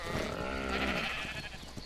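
A sheep in ARK: Survival Evolved lets out one long, wavering bleat, close and clear, with no talk over it.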